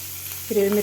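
Curry leaves, grated ginger and green chillies frying in oil in a pan, a short burst of close sizzling that swells midway and holds steady before easing off, with no talk.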